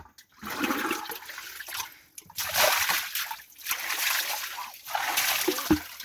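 Water is poured and splashes in gushing bursts across an outdoor surface, washing leaves away, each pour loud and close with short pauses between.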